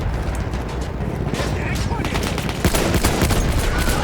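Dense, continuous bursts of gunfire and explosions from the game Battlefield 1, loud and rapid throughout, with a voice talking over it.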